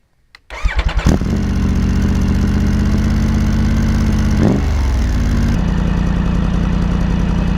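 A 2024 Triumph Tiger 900 Rally Pro motorcycle with a GPR Furore-X titanium slip-on exhaust fires up and settles into a loud, deep, steady idle with a brief throttle blip, the rumble continuous and close.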